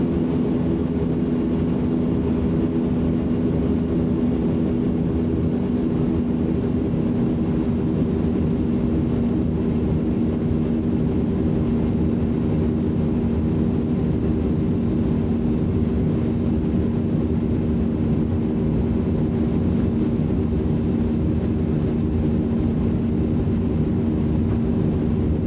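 An Azurpoly C-160 turboprop in SAAF markings rolls for takeoff at FAWK in Microsoft Flight Simulator 2020, its engines giving a loud, steady droning roar with a constant low hum and a thin high whine that persist without a break.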